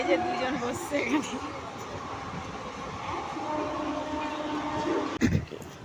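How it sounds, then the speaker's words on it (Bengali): Inside a moving passenger train bound for Lalgola in Murshidabad, a continuous rumbling, rattling drone with a brief clattering jolt near the end, while voices talk faintly in the carriage. "এই যে ট্রেনে উঠে পড়েছি, আমাদের ট্রেন চলছে"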